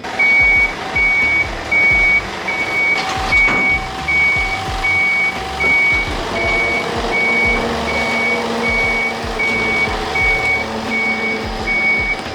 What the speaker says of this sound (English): Came on a badass tow truck.